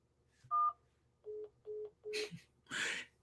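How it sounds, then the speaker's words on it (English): Phone dialing tones: a brief beep followed by several evenly spaced electronic tones and bursts of noise, clear and close in an otherwise quiet room, with no talking. "That was my phone."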